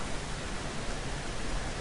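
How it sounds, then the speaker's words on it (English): Steady thunderstorm rain hisses in the background, a dense, even wash of noise with no breaks throughout. "I have a thunderstorm going on in the background"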